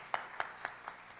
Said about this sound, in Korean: 우리 함께 힘차게 박수로 축복하고 격려하겠습니다